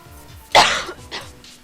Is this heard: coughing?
yes